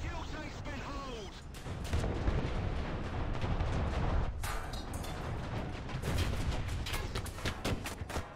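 Rapid autocannon fire and explosions from a tank battle in War Thunder, a dense run of loud bursts and booms over a steady rumble, with a voice talking throughout.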